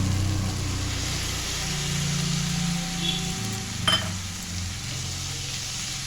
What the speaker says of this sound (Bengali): সবজিগুলো অর্ধেক ভাজা হয়ে গেছে এরপর আমি দিয়ে দেবো কেটে রাখা মশলা